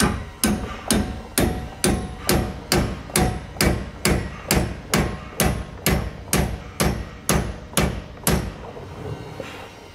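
A hammer taps a bushing into a Dexter E-Z Flex trailer suspension hanger on a 2021 Grand Design Imagine, about sixteen sharp metallic strikes in a steady even rhythm, close and loud, then stopping.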